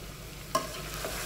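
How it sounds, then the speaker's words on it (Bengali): Chicken stir-fries in a pan for Bengali chicken dalcha, a steady soft sizzle with one sharp scrape of the spatula partway through, close and without speech. "মিনিট 10 থেকে 15 মতন এইভাবে আপনারা চিকেনটাকে সাঁতলাই নেবেন"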